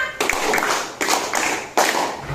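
Students in a classroom clap in unison for a teacher's counting game, with three broad bursts of group clapping spaced about a second apart, close and fairly loud.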